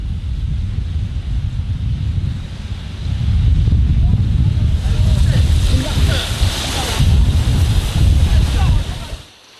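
Sea waves surge and break against a rocky shore on the Korean coast, a continuous loud roar of churning water with rising swells and wind noise that fades out at the end.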